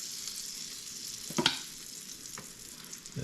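Pancake batter frying in butter on a pan gives a steady, close sizzle that runs throughout, with a brief louder burst of crackle as a big spoonful lands and a smaller flare near the end.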